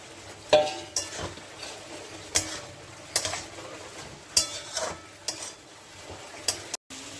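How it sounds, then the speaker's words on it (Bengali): Banana flower cooking with spices in a pan, heard as sharp intermittent spatula scrapes and knocks against the pan at irregular intervals over a faint background sizzle, close by with no voices. "আমি মশলার সঙ্গে মোটাটাকে আমি ভেজে নিচ্ছি"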